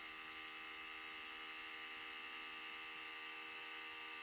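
Electric pet clippers buzz near a dog with a steady, even, high-pitched hum that stays constant and fairly faint, with no voices.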